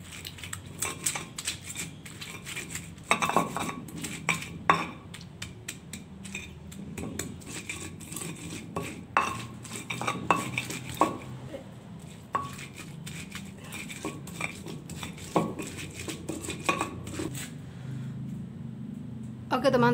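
Repeated scraping, knocking thuds of spices with salt and sugar being ground in a mortar for sambal, irregular and close, with a person speaking now and then.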